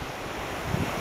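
A class 3 river rapid in a canyon makes a loud, continuous roar of rushing water. A broadband wash fills the whole stretch with no break.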